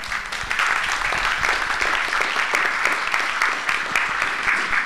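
Close, loud applause from a lecture audience at the end of a public science talk, a thick continuous patter of many hands clapping throughout without letting up.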